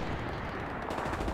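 Gunfire in a night match on the Foy map of a competitive online shooter, a short continuous burst of rapid shots with a dense rattling texture, steady and fairly loud throughout.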